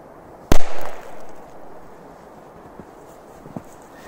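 A petard firecracker blows up in snow with one sharp, loud bang near the start, then fades into lingering rumble, followed by a couple of faint small pops later.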